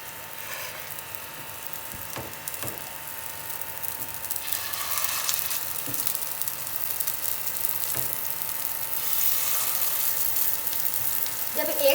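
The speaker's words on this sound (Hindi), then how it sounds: "और अब हम इसमें कबाब डालेंगे।" Chicken kebabs fry in a little ghee in a pan over medium-low heat, giving a steady sizzle that builds louder after they go in, with a few clinks and a voice talking over it.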